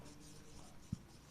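Writing on a board during a physics lecture, a low, steady rubbing scratch with a single soft tap partway through.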